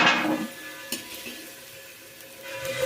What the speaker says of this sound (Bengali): আলুগুলোকে হালকা করে আমি ভেজে নেব